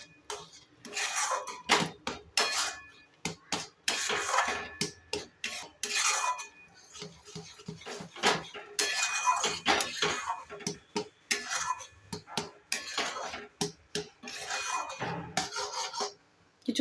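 Spoon scraping and clinking in a pan while kalakand mixture with powdered milk and cardamom is stirred, in irregular bursts of knocks and scrapes.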